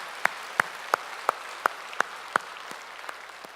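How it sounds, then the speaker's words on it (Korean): A church congregation claps for God during a Sunday worship service, about ten sharp, evenly spaced claps in a steady rhythm that stand out clearly above a quiet room. "우리 하나님께 영광의 박수 올립시다."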